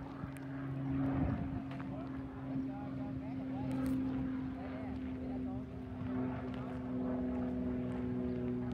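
A propeller airplane drones overhead at a lake, a steady distant engine hum running throughout under intermittent nearby voices and outdoor ambience.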